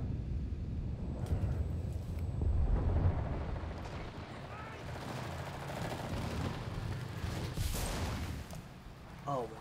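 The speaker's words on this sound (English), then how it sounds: "Oh, I can see the mortar flying." Mortar fire in the WWII shooter Enlisted: heavy low booms and rumbling blasts swelling and fading over ongoing battlefield gunfire, moderately distant, with no speech over it.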